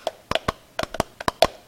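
Sharp hand claps sound in an irregular sequence of about ten, some in quick pairs, close and crisp against a quiet background, with no talking.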